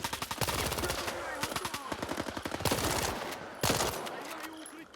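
Gunfire in the video game STALKER, with rapid bursts of automatic shots crackling in quick succession, loud and close, with brief pauses between bursts.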